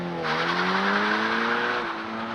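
A manual Toyota GR86 launches from a standstill with no launch control, its engine note climbing steadily as it pulls hard and loud, close by, with a brief squeal of tyres.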